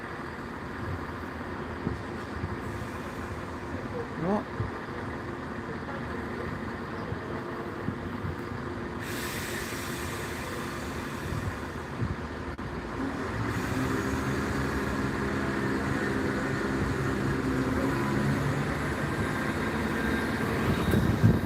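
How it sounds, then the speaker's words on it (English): A train idling at a station, a steady low engine rumble that swells toward the end, with one short spoken word. "So now this train is late by a minute to depart."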